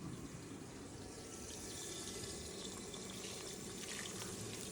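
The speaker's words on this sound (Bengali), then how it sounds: "ব্লেন্ডার দিয়ে যে শুটকিটা ব্লেন্ড করেছিলাম সেটা দিয়ে পানি দিয়ে দিচ্ছি" Water pours in a steady, soft stream into a blender jar holding blended dried fish for a Sylheti shutki curry with bottle gourd leaves, a continuous faint splashing with no talk.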